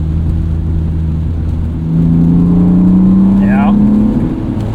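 A 1998 BMW E36 M3 sedan engine drones low and steady, then rises in a smooth swelling induction hum from its long intake tube as the throttle opens above 3,000 rpm, with a faint whistle near the end.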